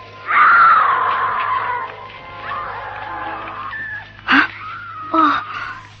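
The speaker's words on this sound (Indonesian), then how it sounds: "tiba-tiba dari kejauhan terdengar teriakan seorang wanita" A woman's scream in an audio drama, a drawn-out wailing cry followed by shorter anguished outbursts, set against a faint low hum.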